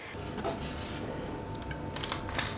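Pieces of no-bake chocolate salami made with Nutella are set down onto a serving platter, giving a few light, close clicks and taps of dish and utensil against a faint background hum.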